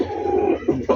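Pigeons give low, soft coos, a few short rolling calls close by in a quiet moment with no talking.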